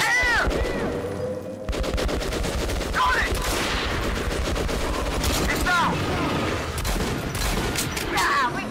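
Heavy gunfire in the video game Metro Last Light, with dense bursts of automatic fire and repeated shots running continuously at high volume, with speech-like sounds woven through the mix.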